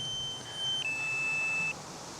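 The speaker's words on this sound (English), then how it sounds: "And now we're getting that familiar beep." SkyRover X1 drone sounding its low-battery warning: a steady electronic beep that sharpens and holds for about a second, heard close and clear over faint background hiss, with no talk.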